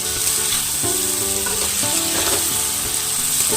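Spice paste sautéing in plenty of oil for a flat-bean curry, a loud, dense, continuous sizzle and fry close to the pan, with faint stirring movement underneath and no speech.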